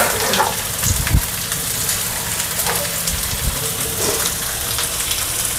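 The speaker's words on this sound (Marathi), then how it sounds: "त्याच्यामध्ये मी मोठे 2 कांदे चिरून घेतले आहेत हे ह्याच्यामध्ये मी घालते आता." Two large chopped onions go into a little hot oil on a tawa for chicken masala and sizzle steadily up close, with a few brief louder crackles near the start.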